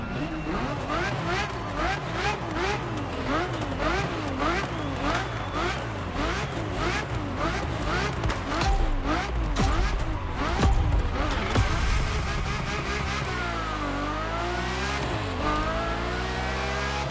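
Ferrari F50 engine in The Crew Motorfest, a high-pitched race-car wail climbing and dropping through rapid gear changes, then a long sweeping rev near the end, loud and continuous.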